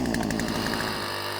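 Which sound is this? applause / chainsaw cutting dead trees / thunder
chainsaw cutting dead trees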